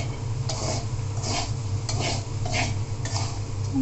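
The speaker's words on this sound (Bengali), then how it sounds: "এভাবেই লাড়তে হবে আর রান্না করতে হবে" A spatula scrapes and stirs teasel gourd and shrimp frying in a pan, steady sizzling under repeated rhythmic stirring strokes, close and fairly loud, with no talking.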